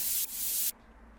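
A short burst of hissing white noise plays, dips for an instant, then stops abruptly, leaving near silence.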